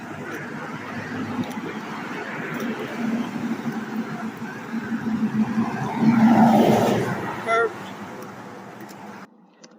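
A red truck with bright lights drives past on a street, its engine noise swelling to a peak and then fading, heard amid steady road noise with a person talking over it.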